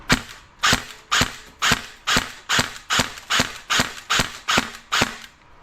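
Bolt DDM4 RIS airsoft rifle firing BB shots, eleven sharp single pops at a steady, even pace of about two per second, close and clear with nothing else over them.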